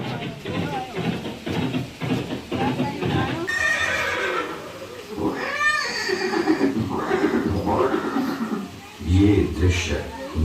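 A horse whinnies in a museum display recreating Maharana Pratap's last meeting with his loyal horse Chetak at Haldighati, Rajasthan, with hoof clip-clops, rising and falling neighs mid-clip, all under steady narration and room noise.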